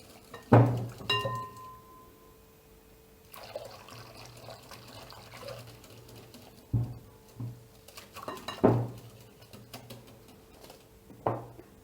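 Warm milk and yogurt being stirred together in a bowl for Moroccan homemade raib: a few sharp utensil clinks against the bowl amid soft, quiet liquid swishing, with no talking.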